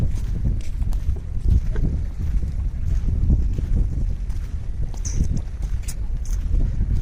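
Wind rushes steadily across the microphone during a boat ride in Abu Dhabi, a constant low roar with no letup and faint engine or water rumble beneath it.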